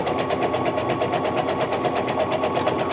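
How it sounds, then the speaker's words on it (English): A domestic sewing machine runs at a steady, fast rhythmic chatter while stitching elastic onto a child's fabric face mask, close and continuous with no talking. "I'm gonna get going again, sew down"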